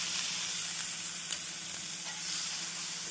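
Cauliflower fries with onion in a pan for a pepper fry, giving off a loud, continuous close-up sizzle and hiss with faint stirring scrapes.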